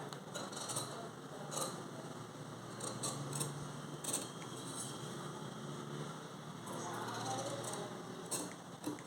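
Tailor's scissors snip through fabric for an embroidered blouse in a series of brief, crisp cuts, spaced irregularly over a faint steady background hum, quiet and close, with no talking.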